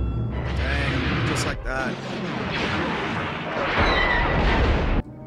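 The Death Star superlaser firing in Return of the Jedi, a loud sustained blast with mechanical rumble lasting about five seconds, with voices talking over it.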